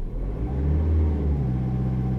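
2006 Nissan X-Trail engine being revved to about 2000 RPM, a loud close steady engine drone that swells slightly in the middle and holds, with no voices.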